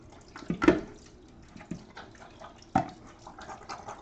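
Liquid draining from a pan while making chicken stir fry, heard as a couple of sharp splashy bursts and a brief pour against a low kitchen background, with no talking.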